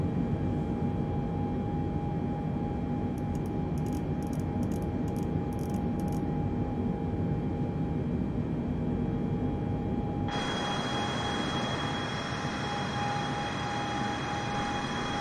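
Boeing 747 engines in flight in a flight simulator game, a steady broadband roar with a constant high whine throughout, and a brighter hiss taking over partway through.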